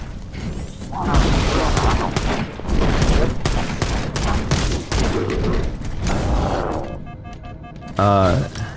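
Rapid gunfire and explosions from the Halo: Campaign Evolved video game, Silent Cartographer level, fighting hunters, loud bursts and thumps in a dense firefight, with a person talking over the action.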